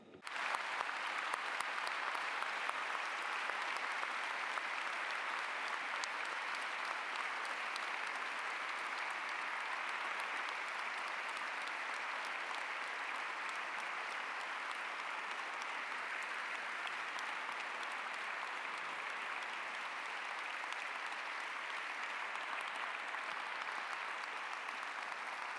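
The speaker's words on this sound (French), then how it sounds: "je voudrais qu'on applaudisse sincèrement ces personnes" An audience claps at length in a hall, a dense, even wash of applause that starts abruptly and holds steady at moderate distance for the whole stretch, with no speech over it.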